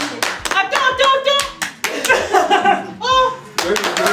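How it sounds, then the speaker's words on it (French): Hand clapping at home from a mother and family, loud and close, in uneven bursts with short pauses, while a voice and other people talk over it. "Si, on applaudit"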